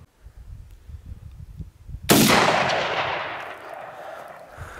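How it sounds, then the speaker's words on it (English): A single sharp, loud Mosin Nagant rifle shot cracks outdoors in Utah, followed by a long rolling echo that decays over a couple of seconds after a quiet rumbling lead-in. "Oh, call the cops, they're shooting rifles."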